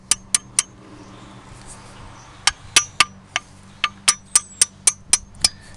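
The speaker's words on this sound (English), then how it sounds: "And you just want to grab your hammer," Metal hammer taps driving brake pins into the front caliper of a 2010 Dodge Challenger SRT8 during a brake and rotor install: sharp, ringing strikes in quick bursts of three, then a longer run of evenly spaced taps, close and clear over quiet shop hum.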